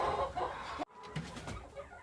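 A hen held in someone's arms in cold weather gives low, uneasy clucks, faint and close, with a brief thump partway through and no talking.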